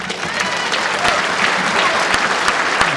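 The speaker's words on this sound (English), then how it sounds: "can hear the reaction of the crowd that 2 shots it is" Crowd at the 2016 World Bowls Championship bursting into steady applause after a two-shot end, dense clapping and cheering close by throughout, with a few sharper claps standing out.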